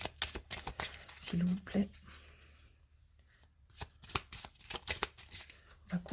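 Tarot cards are cut and shuffled up close in a series of quick, crisp riffling bursts with brief pauses, while someone speaks softly in French between them.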